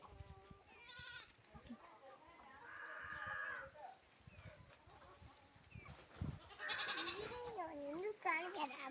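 Several goats on a village goat farm bleat in wavering calls, some close and loud, mixed with voices of people talking in the background.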